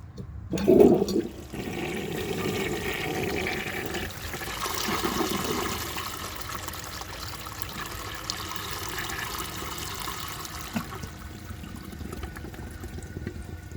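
A 1930 Eljer Sanus toilet flushing a grocery bag starts with a loud rushing surge, then settles into a long, steady trickle of water refilling the bowl.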